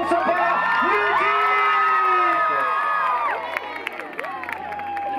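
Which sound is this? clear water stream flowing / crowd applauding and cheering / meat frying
crowd applauding and cheering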